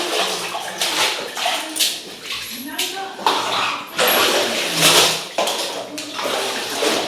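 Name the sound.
hand-washing clothes in water and draining them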